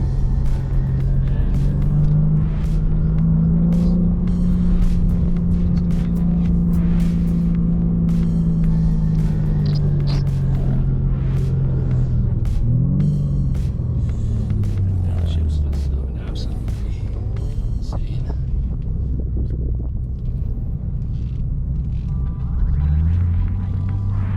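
A 2024 BMW M3 Competition driving in Sport Plus mode with the transmission in T3 on a road trip from Germany to Switzerland, its engine droning steadily and rising and falling in pitch, heard from inside the car beneath ongoing talk.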